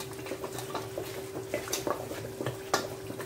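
A spoon stirs Nigerian stew in a pot, giving soft, irregular scrapes and light clinks against the metal, with a steady hum underneath and no voices.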